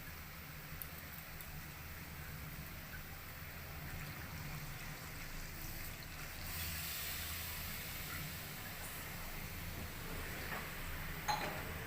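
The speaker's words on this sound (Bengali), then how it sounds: "চিকেনটা ভালো করে কষিয়ে নিয়েছি, এবার জল দিয়ে দেবো" Water added to sautéed chicken in a hot pan for chicken kosha, producing a soft, continuous hiss of steam that swells slightly midway and holds steady at low volume, with no talking.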